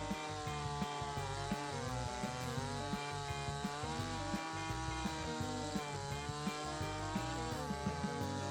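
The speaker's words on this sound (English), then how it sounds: "using the chainsaw to get those cut off." A chainsaw runs at a steady high rev while cutting poles for a building project, loud, continuous and close, with slight rhythmic dips in pitch.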